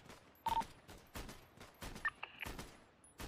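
In GTA roleplay, game gunfire cracks out as a run of separate sharp shots spaced about half a second apart, with a few short electronic beeps between them and no talking.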